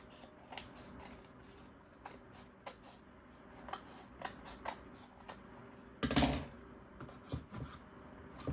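Scissors trim paper for a Valentine's frame insert: faint, scattered snips and crisp paper rustles close by, with one louder handling rustle midway.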